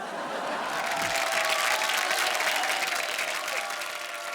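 Studio audience applause on a comedy show stage, steady and dense claps filling the room for several seconds with a faint crowd murmur beneath.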